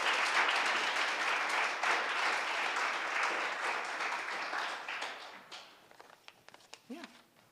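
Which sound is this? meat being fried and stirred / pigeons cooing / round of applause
round of applause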